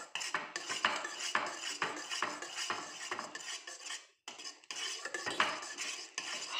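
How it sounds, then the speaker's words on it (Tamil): A spoon stirs fruit custard in a pan over a low flame, making rhythmic scraping and clinking strokes against the metal, close and fairly quiet, with one brief pause and no talking. "கட்டி வராமல் மிக்ஸ் பண்ணிக்கிட்டே இருக்கணும்"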